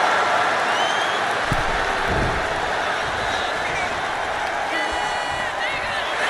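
Crowd cheering and applause from a wrestling match in the WWE 2K25 video game, a steady roar filling the whole stretch with a commentator talking over it.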